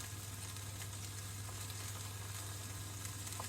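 Food browning in a frying pan gives a steady, close sizzle with a constant low hum beneath it and a few faint clicks, with no talking.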